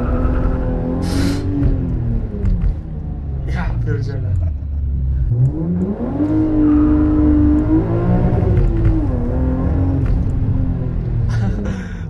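A 317 hp BMW M3 E36 accelerates hard through Warsaw streets, its engine revving up and down in rising and falling sweeps heard from inside the car, with someone speaking over it.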